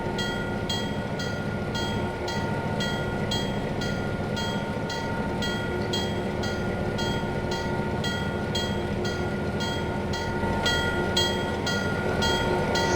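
Freight train in a train simulator game, rolling slowly on the Pennsylvania & Berwind railroad, with a steady rumble, squealing tones and rhythmic clicks of wheels over rail joints, continuous and moderately loud throughout.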